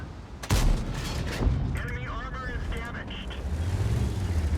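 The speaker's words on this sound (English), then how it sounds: "I'll give you guys covering fire." Tank cannon fire in World of Tanks, with the Chrysler K heavy tank giving covering fire: two sharp booming shots early on over rumbling engine and battle noise, with a player talking throughout.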